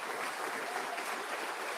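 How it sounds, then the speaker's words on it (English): Dense, steady applause from the audience at the Ohio governor's State of the State address, a continuous wash of many hands clapping at moderate loudness with no speech over it. "Please give a round of applause to Braxton Miller"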